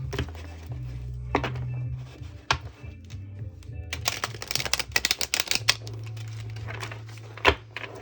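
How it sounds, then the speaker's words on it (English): Tarot cards being shuffled by hand, a run of papery riffles, taps and thunks of the deck against a surface, close and fairly quiet over a low hum. "Let's give it one more shuffle."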